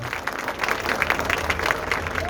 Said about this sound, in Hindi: एक बार जोरदार तालियों से उनका स्वागत